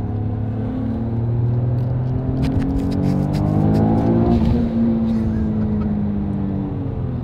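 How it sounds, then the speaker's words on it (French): A Toyota Yaris GR Stage 3 rally-tuned car on a lakeside road revs hard from inside, the engine note climbing in pitch through several pulls, loud and close with a steady rumble. "une vraie petite voiture de rallye, c'est sec, c'est énergique, ça marche"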